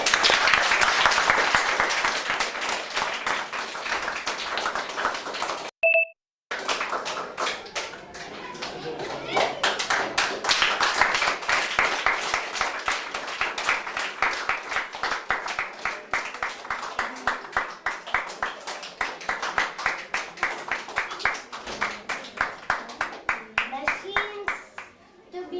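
Sustained applause fills a school event after a preschool class performs a poem, with many hands clapping close up and steadily for over twenty seconds, broken by one brief silent gap, while a few voices murmur underneath.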